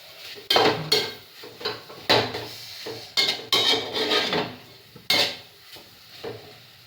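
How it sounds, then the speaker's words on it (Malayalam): A spoon scrapes and clatters against a pan while pumpkin leaf thoran is stirred, giving a steady run of close, sharp scraping strokes with brief pauses between them. "കൈ തോരാതെ ഇളക്കി കൊടുത്തതാണ്"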